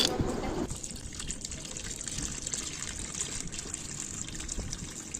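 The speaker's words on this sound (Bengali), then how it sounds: "তারপরে আমি এর মধ্যে জল ঢেলে দেবো যতক্ষণ না এটা পুরো ভর্তি হচ্ছে ড্রামটা" Water pouring into a drum for planting lotus, a steady close trickle and gush of liquid filling the container, continuous and fairly quiet throughout.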